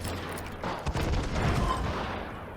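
Gunfire in the Call of Juarez Gunslinger video game, a quick volley of several loud, close shots that bleed into one another over about two seconds.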